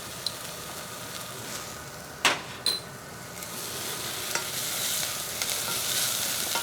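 Julienned ginger strips frying in hot oil in a pan, a steady close sizzle that runs throughout with a few sharp clicks and stirring scrapes, and no voices.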